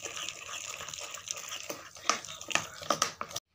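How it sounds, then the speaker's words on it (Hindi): Water trickles little by little into carrot malpua batter in a kitchen, giving soft irregular splashes and drips close by that grow slightly louder near the end before cutting off. "इसमें हम थोड़ा थोड़ा पानी डालेंगे"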